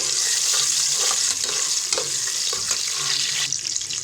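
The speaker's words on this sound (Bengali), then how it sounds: "পেঁয়াজটা তেলের সাথে ভেজে দেব।" Chopped onions frying in soybean oil with bay leaf, cloves, cardamom and cinnamon for chicken khichuri, a steady dense sizzle with soft stirring scrapes throughout, close and fairly loud with no talking.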